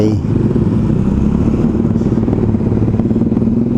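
Inline-four motorcycle engine running close by, a loud continuous low rumble with steady revving and some mechanical clatter throughout.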